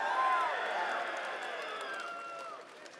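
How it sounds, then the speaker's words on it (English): A large keynote audience at a Pro Tour event in Los Angeles cheers and applauds, a dense wash of clapping and shouting that slowly fades, with voices mixed through the crowd noise. "That's a pretty resounding applause there."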